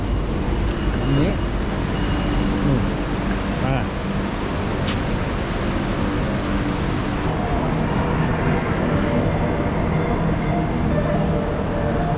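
An electric skytrain rolls past on an elevated line, a long, loud, steady rumble and rail whine mixed with street noise and faint background voices.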